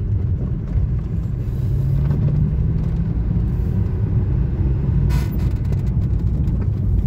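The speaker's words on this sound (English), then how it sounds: "A small car, very easy to drive." A 2002 Daewoo Matiz 0.8 small car on the move, heard from inside as a steady low engine drone and road rumble, with a brief knock partway through.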